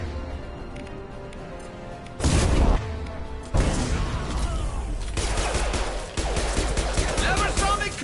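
Heavy gunfire in a Mass Effect 2 firefight, with dense bursts and rapid shots that erupt loudly after a quieter opening and keep hammering with only brief lulls.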